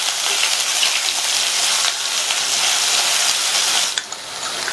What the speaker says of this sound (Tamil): கூடவே ஒரு பெரிய வெங்காயத்தை கட் பண்ணி சேர்த்துட்டு இந்த வெங்காயத்தை லைட்டா வதக்கி விட்டுக்கலாம்.